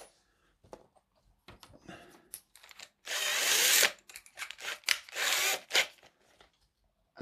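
Short bursts of drilling a pilot hole into a model truck, a grinding whir that starts and stops several times between quieter clicks and handling noises.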